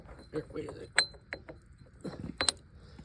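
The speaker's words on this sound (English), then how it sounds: "I can slide this sprocket on" A Harley FXR rear sprocket clinks and scrapes onto the wheel splines in a few brief metallic knocks and rattles, close up and fairly quiet.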